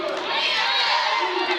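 Basketball crowd at a women's college game between Trinity Valley and Panola College cheers steadily, urged on by the Trinity Valley cheerleaders, a dense continuous roar of voices and shouts with no clear breaks.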